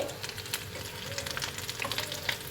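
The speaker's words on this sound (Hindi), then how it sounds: "बाकी के भी हम अच्छी तरीके से फ्राई कर लेंगे" Potato noodle and chicken snacks deep-frying in oil, a soft continuous bubbling crackle with scattered pops, fairly quiet and steady, no talk.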